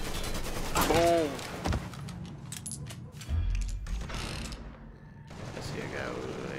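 Gunfire in Mafia 3 during a shootout: bursts of loud shots crack close by amid game sounds, while a voice talks over part of the action.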